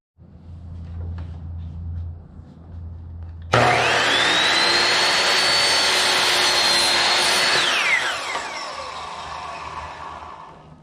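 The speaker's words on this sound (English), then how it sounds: "we're back on the miter saw" A miter saw spins up abruptly and makes one loud, sustained cut through a 2x6 leg at a 6 degree double bevel, then winds down, with quiet shop background before and after.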